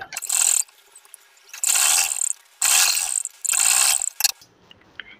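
Sewing machine stitching a fabric sleeve piece, four rapid whirring mechanical bursts of clattering needle action separated by short pauses, close and clear with no talk.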